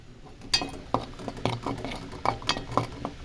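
Homemade orange soap mixture stirred in a container, with repeated clinking scrapes of a utensil against the sides at an uneven rhythm, close and moderately loud.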